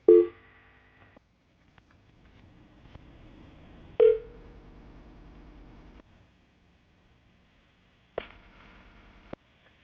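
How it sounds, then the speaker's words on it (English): A phone number is dialed, with a few short keypad tones at the start, middle and end separated by quieter stretches of low line hum, fairly quiet overall with no talking. "I'm going to dial the phone number right now"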